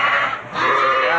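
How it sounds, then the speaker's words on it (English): Lambs bleating in a pen on a sheep dairy farm, a steady wavering bleat close by with a slight dip midway and no talk over it. "Here's views of lamb."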